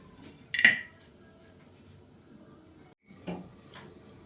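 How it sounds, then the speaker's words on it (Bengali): A lid set over a pan of bele fish curry in a home kitchen, a close metallic clatter followed by quiet, then a second softer clunk of metal, with no talking. "মাছগুলো দিয়ে 5 মিনিট একটু চাপা দিয়ে দেবো।"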